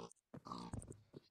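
Pig grunts and oinks from the Minecraft video game, a couple of short squeals in quick succession, close and clear.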